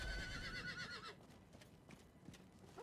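A horse whinnies with a rising, quavering neigh in Diablo IV, followed by a few soft hoof clops, fairly quiet and close.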